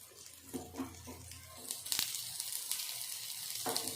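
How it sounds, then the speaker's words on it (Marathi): Colocasia leaf rolls for aluvadi fry in hot oil, giving a steady soft sizzle with small crackling pops and a few sharper clinks near the pan, without any talking. "हे छान फ्राय करून घेऊया आता त्याला पलटी करून घेते मी"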